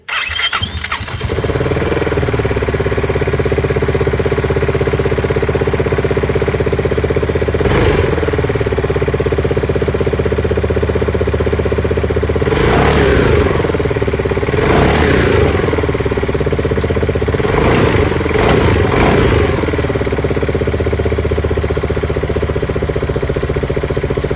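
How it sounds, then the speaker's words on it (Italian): Small scooter engine cranks and catches, then settles into a loud, steady idle with a few brief revving swells and rattles. "Intanto proviamo a dare una messa in moto."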